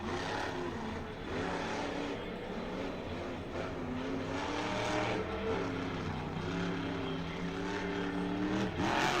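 Sky Wheelie, a monster truck at a monster truck show, roars with a loud, sustained, revving engine that swells and dips over several seconds, accompanied by a steady rumble of crowd and arena noise.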